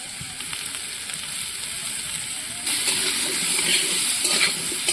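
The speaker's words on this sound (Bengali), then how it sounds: "পেঁপে আর আলুটা আমি ভালো করে ভেজে নিয়েছি" Papaya and potato pieces with salt and turmeric frying in a pan, a steady close sizzle that grows louder and brighter halfway through, with occasional faint stirring.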